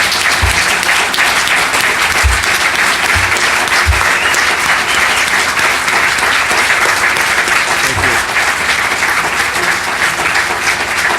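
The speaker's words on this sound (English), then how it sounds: "Now it's time for that round of applause for both candidates" Debate audience at a Michigan House District 59 candidate forum applauding both candidates: steady, full-room clapping that holds evenly for about eleven seconds, with a few low thumps beneath.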